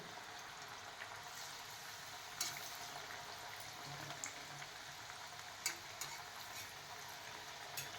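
Rice flour chakli frying in hot oil burble with a steady bubbling sizzle, a dense hiss broken by a few sharper pops and crackles, close and alone without any voices.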